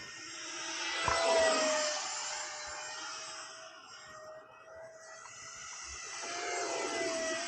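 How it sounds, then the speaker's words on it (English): An E-Flite Habu SS 50 electric ducted fan RC jet on a 3S battery takes off from grass, its high steady whine rising to a loud close roar and then fading and returning as it flies past. "It usually takes a lot of juice just to get this one off grass."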